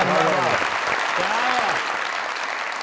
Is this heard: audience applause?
yes